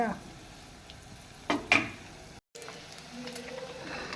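Dried stingray fries steadily in a pan of oil, sizzling, with a couple of sharp clatters partway through and a brief dropout before the sizzle resumes.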